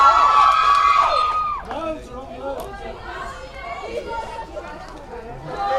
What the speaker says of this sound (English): he's got the crowd wild